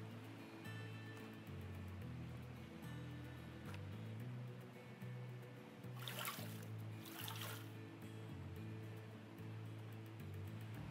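Water flowing into a gold-mining sluice in Gold Rush: The Game, a faint continuous rushing wash under humming machinery, with a brief louder surge of splashing partway through.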